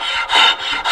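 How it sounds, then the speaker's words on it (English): A large rasp files end grain of wood in bold rhythmic strokes, a coarse close scraping rubbing loudly back and forth, with no voices. "rasp that I really like because it really moves a lot of wood fast"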